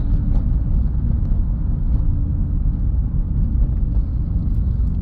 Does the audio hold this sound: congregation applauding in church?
no